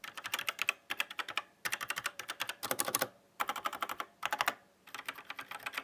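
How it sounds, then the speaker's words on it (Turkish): Fast typing on an Everest KB-MK7 mechanical keyboard with red switches: close, crisp clacking keystrokes in rapid bursts separated by short pauses, with no voices. "Red switch olduğu için sesi gayet tatmin edici."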